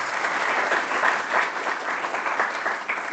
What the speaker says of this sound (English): Can I get a round of applause for our panelists?